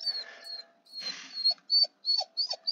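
A dog whimpers in short, high-pitched, excited whines and yelps, close by, in a quiet room with no talking.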